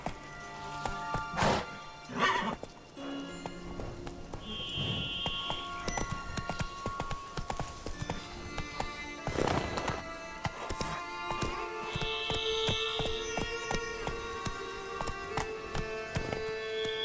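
Roach galloping in The Witcher 3: Blood and Wine, hooves pounding in a quick repeated rhythm beneath game music, with a few heavier thuds and crashes along the way.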